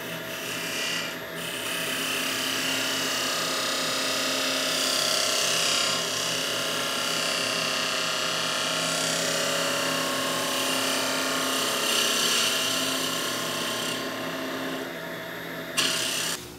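A spindle gouge cuts a small wooden pendant spinning on a lathe, giving a steady, close scraping and rasping that runs throughout with little variation.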